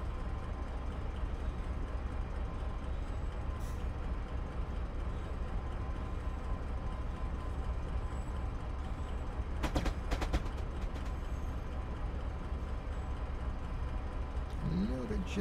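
A Class 70 freight locomotive diesel engine idling slowly at tickover in the Train Simulator 2017 game on the South Wales Coastal route gives a steady low rumble throughout, with a few brief clicks partway through.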